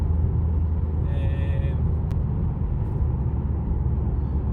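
A Ford C-Max 2.0 TDCi out on the road, heard from inside the cabin as a steady, loud low rumble of engine and tyres that holds evenly throughout, with a faint brief tone partway through.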